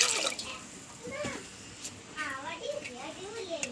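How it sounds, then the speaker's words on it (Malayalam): Water is poured into a pot of washed lentils for sambar, a soft brief splashing under a person talking in a home kitchen. "പാകത്തിന് വെള്ളം ഒഴിക്കണം."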